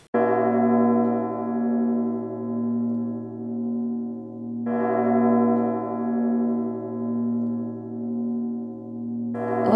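A large church bell tolls twice, each deep strike ringing out in a long, pulsing hum before the next, with a third strike starting at the end.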